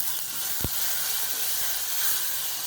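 Crushed garlic and green chili sauté in hot oil with mustard seeds and cumin, giving a steady, close sizzling hiss throughout, with one brief sharp pop near the start and no talking.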